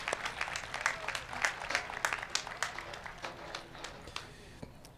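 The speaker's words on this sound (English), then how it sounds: "Can we give her a round of applause?" Audience applause at the AITE Class of 2021 graduation ceremony, a crowd of steady, dense clapping that stays fairly soft and even for several seconds before thinning out at the end.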